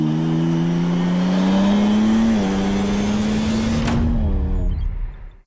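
BMW M2 G87 engine revving hard and close, a loud rising drone that climbs for several seconds, dips briefly and climbs again before cutting off abruptly and fading to silence.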